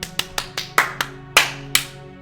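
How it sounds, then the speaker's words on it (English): Several sharp hand claps from one person, about seven crisp slaps in an uneven quick rhythm, close and clear with no talking. "I know you're clapping at home, but I thought I'd clap with you on that one."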